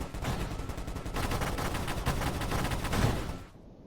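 Rapid, continuous minigun fire in the space shooter Nova Drift, a dense unbroken stream of shots for several seconds that cuts off abruptly near the end.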